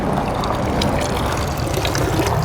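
Water streams from an old drinking fountain in Galveston, a steady close splashing and trickling flow with constant broadband hiss and no pauses.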